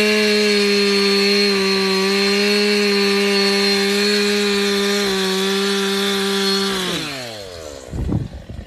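A chainsaw cutting through large tree roots, its engine holding a steady high-pitched whine for several seconds before dropping in pitch as it slows, then rough scraping and thuds at the end.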